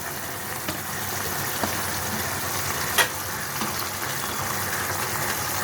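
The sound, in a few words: mourola fish simmering in poppy seed gravy with potatoes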